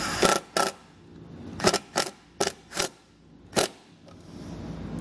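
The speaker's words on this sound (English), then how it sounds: "So I'll take the included self-tapping screw, get it where I want, and run it into place." A self-tapping screw is driven in for a Roadmaster tail light wiring kit on a 2015 vehicle, with about seven short, loud, crisp bursts in an uneven stop-start rhythm, close and with no talking.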